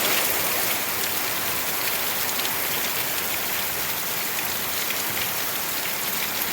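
Heavy monsoon rain pours steadily in the Gir countryside, a dense, loud, unbroken hiss of drops drumming on surfaces with no pauses.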